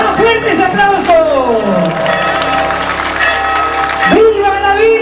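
A crowd applauds and cheers during a religious procession for Our Lady of Candelaria, steady clapping spread throughout under a loud voice speaking over it.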